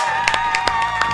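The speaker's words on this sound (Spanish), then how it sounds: "con un fuerte aplauso vamos a recibir a uno de nuestros columnistas" Brief studio audience applause welcoming a guest on a talk show, a short burst of scattered claps over a sustained musical tone.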